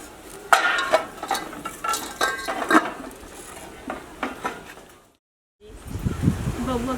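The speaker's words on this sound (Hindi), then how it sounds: "ये बर्तन चल के धोआ है" Dishes, pots and utensils are washed by hand in a home, with scattered clinks and scrapes of metal and crockery over running activity, then a short silence before a voice speaks.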